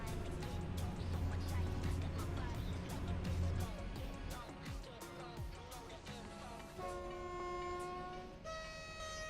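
Trains in the SimRail multiplayer railway simulator roll past with a sustained rumble of wheels and engine, sharp clanks and a low horn-like tone early, then steady tonal whine near the end, continuous and fairly loud throughout.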